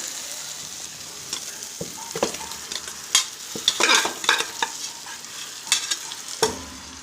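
A spoon stirs cooked chicken with biryani masala in a hot pan, giving sharp scraping clinks at irregular moments over a soft, steady sizzle, close and fairly quiet with no voices.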